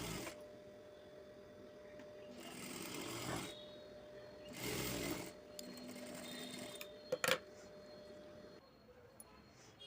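A sewing machine stitches a folded cloth strip into a thin blouse drawstring, running in a few loud whirring bursts with pauses between them, plus a couple of sharp clicks near the end.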